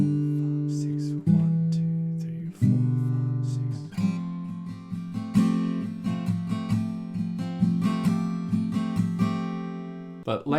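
Acoustic guitar strums soft chords from a song, each chord struck once and left ringing for about three beats, in a slow, even sequence of close, clear strikes with quicker strums toward the end.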